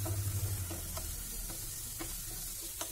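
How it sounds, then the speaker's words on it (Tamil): Onions sauté in oil in a pan with a soft, even sizzle, punctuated every half second or so by light spatula clicks over a faint low hum. "அந்த பேன்லே நல்லா அந்த எண்ணெயிலே வெங்காயத்தை வதக்கிக்கோங்க"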